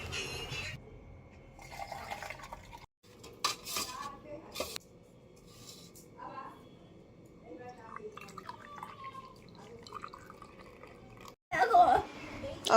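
Pots and utensils clink and tap on a home stove while milk heats for evening tea, scattered short knocks and scrapes at close range, with people talking throughout.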